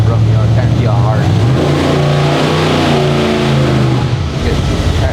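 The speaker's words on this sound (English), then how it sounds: "Now once you just push the throttle a couple times to kind of feel how it is." A small block Chevy engine revs hard as the throttle is pushed, pitch climbing in a loud, close sweep before dropping back to idle, with a voice talking over it.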